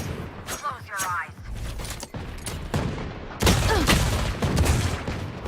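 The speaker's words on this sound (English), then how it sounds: "Dizzy has shot." Gunfire in Valorant during an esports grand final broadcast comes as several sharp bursts and single shots. Game callouts and voices are mixed over the shooting.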